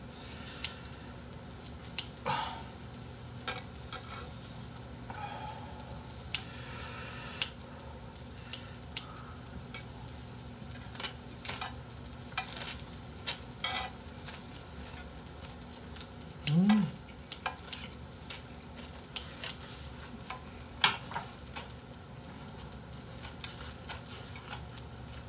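Beef top blade sizzles on a grill in a Korean barbecue setting, a steady close frying hiss with faint clinks and shuffles, no talk.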